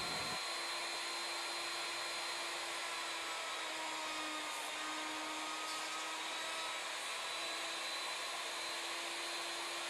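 A CNC router with a rack and pinion drive mills a Native American flute, giving a steady, loud motor whine with a high spindle tone that holds throughout without a break.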